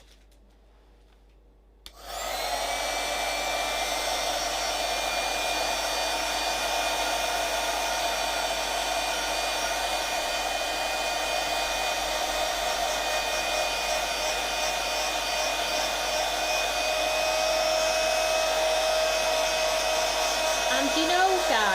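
A handheld heat tool drying a papercraft card background switches on and blows with a loud, steady whirring hum for about twenty seconds, alone without talk.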